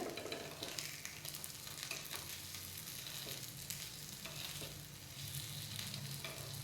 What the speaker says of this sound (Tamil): எல்லா பாலையும் அதே மாதிரி திருப்பி திருப்பி விட்டுடலாம்